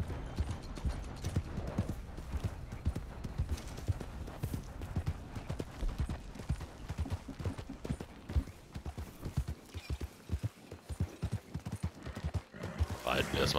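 Steady clip-clop of horse hooves while riding in Red Dead Redemption 2, with an occasional neigh, rhythmic and continuous under someone talking in German throughout.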